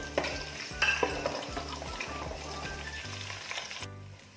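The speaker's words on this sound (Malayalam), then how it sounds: "നന്നായിട്ടൊന്ന് മിക്സ് ചെയ്യാം." Onions with cardamom, cloves, cinnamon and two bay leaves frying in a pan for prawn biryani, stirred with a utensil that gives several distinct scrapes and knocks over a steady close sizzle.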